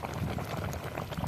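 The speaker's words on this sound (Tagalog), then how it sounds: "Ayan ito, kumukulo na mga idol." Pot of water at a rolling boil while cooking fish caught outdoors, a dense continuous bubbling churn heard up close, alone without talking.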